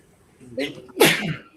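A single loud, close human sneeze, a short breathy intake followed by a sharp explosive burst that tails off quickly.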